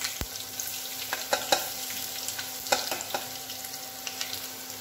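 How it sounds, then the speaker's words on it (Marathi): Garlic frying in a hot tempering of mustard seeds and curry leaves, a continuous close sizzle broken by several sharp spatters and stirring clicks, with no talking. "नाही, पहिले मी लसूण टाकते।"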